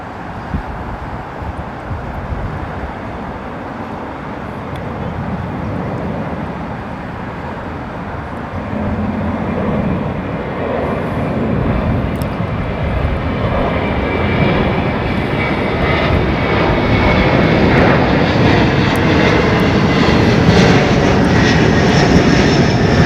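A heavy jet airliner passes at Heathrow Airport with a loud, broad engine roar. The sound swells steadily over more than twenty seconds and stays strong without a break, with no voices.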